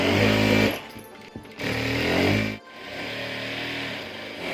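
A sewing machine stitches the side seams of an umbrella dress in loud, close motor bursts that pause briefly and then resume.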